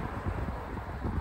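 Wind buffets a microphone with a low, rumbling roar that rises and falls unevenly throughout the brief moment.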